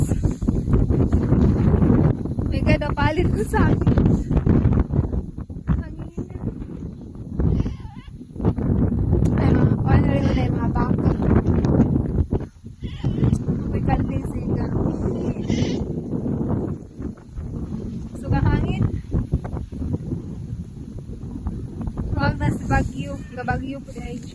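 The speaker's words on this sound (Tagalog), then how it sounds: "Ang lakas ng hangin, sobrang lakas." Heavy wind buffets the microphone in loud, roaring gusts in Pamplona, with people talking and calling out at times over the blustery rumble.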